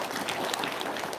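An audience at a religious talk breaks into a short burst of applause, an even patter of many hands clapping at moderate volume with no voices over it.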